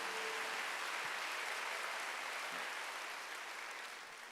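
A church congregation claps together during a Korean Sunday worship service, a steady wash of applause heard from some distance that fades gradually toward the end.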